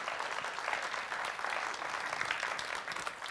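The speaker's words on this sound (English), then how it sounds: "give them a round of applause" An audience at a leadership summit gives a sustained round of applause, a dense wash of clapping at moderate level with no voices over it.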